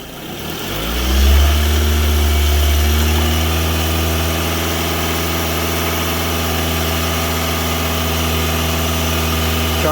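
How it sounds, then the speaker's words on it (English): A 2006 Scion tC engine is revved up from idle, then held at a steady raised speed, loud and close with a continuous humming drone and no talking. "Bring the RPMs up."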